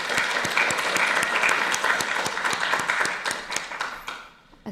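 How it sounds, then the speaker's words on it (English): A congregation applauds six poets at a Sunday service celebrating poetry month, close and full clapping that holds steady and then fades out toward the end. "Let's give them a round of applause."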